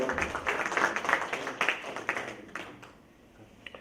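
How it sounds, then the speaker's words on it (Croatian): An audience at a Croatian cultural society event gives a short burst of fairly close clapping that fades out over a few seconds, with a last stray clap at the end. "Može jedan aplauz?"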